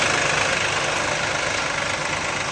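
A New Holland TT60 FWA tractor, a 60-horsepower front-wheel-assist model, idles close by with a steady, unbroken engine rumble and a faint knocking texture. No one speaks.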